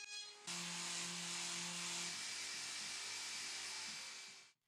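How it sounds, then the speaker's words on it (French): An electric sander whirs continuously at close range on wooden crosspieces, a steady high-pitched hiss and hum that runs for a few seconds before winding down. "J'ajoute un arrondi aux traverses et je les ponce."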